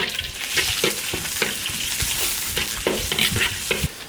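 Meat stir-fried in hot lard in an iron wok, with a continuous loud sizzle broken by repeated scraping strokes of a spatula against the metal at a steady rhythm, close up and with no talking.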